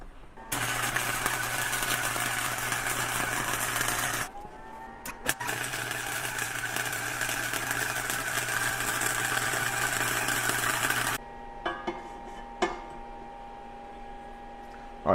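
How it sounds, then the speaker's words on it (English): Spot welding on parts of a Harbor Freight motorcycle dolly gives a loud, steady buzzing crackle in two long bursts separated by a brief pause, followed by quieter clicks and short hums. "we're gonna spot weld these together"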